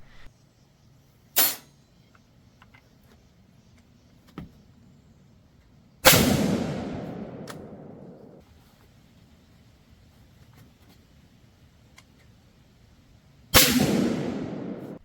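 Shots from an 8mm Mauser Carcano rifle crack loudly, three sharp reports spaced several seconds apart, each ringing out into a long echo, with faint metallic handling clicks in between.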